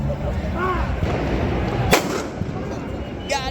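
A single sharp firework blast cracks through the streets of Valencia at night amid a noisy crowd with voices, with a fainter pop following shortly after.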